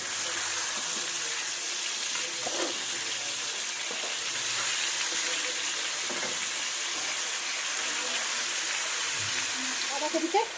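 Washed cabbage added to a pan of frying potatoes, giving a continuous close sizzle and hiss with light stirring scrapes near the end.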